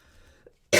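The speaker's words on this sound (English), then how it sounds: "This morning I am coughing a lot." A single sharp, loud cough bursts out close to the microphone after a stretch of near silence and a faint earlier throat noise.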